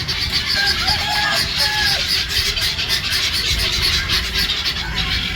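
A busy, noisy bird market din in Dubai with chickens and other poultry squawking and honking amid constant background clatter and murmur.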